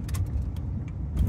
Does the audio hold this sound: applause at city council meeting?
no